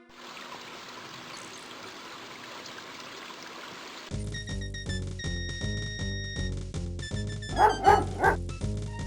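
A dog in the King's Quest 5 video game barks and digs at a large anthill. A short burst of yapping barks comes near the end, over game music, after a soft trickling start.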